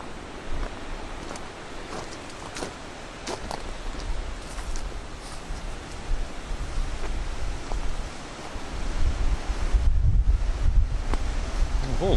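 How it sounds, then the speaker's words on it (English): Strong wind buffets the microphone on an outdoor walk along the Broadway to Honeybourne railway trackbed, a constant rushing roar with gusts that swell louder toward the end. "Still pretty windy though."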